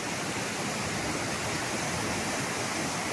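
Cachoeira da Torre, a waterfall in the Serra do Mar, pours as a dense, steady broadband roar of falling water, close and continuous with no other sounds.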